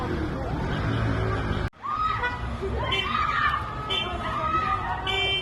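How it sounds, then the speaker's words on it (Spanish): A woman screams desperately while trying to stop a robbery, her cries ringing out over a noisy crowd-like backdrop after a brief sudden cutout. "Se escuchan los gritos desesperados de la mujer que intenta evitar el robo"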